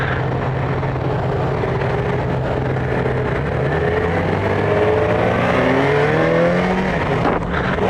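A Yamaha FJ-09 motorcycle engine runs steadily at elevated revs, loud and close, with a continuous droning tone whose pitch drifts gradually throughout.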